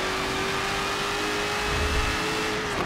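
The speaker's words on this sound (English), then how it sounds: "Listen to that supercharger" A Dodge SRT Demon engine runs hard and steady with a high, thin supercharger whine riding over the deep rumble, as if accelerating under load.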